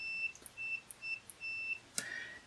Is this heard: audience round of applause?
no